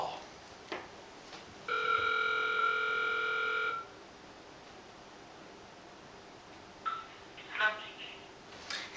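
A telephone rings once in a steady tone burst lasting about two seconds as a prank phone call is placed, followed by quiet line noise and a couple of faint clicks.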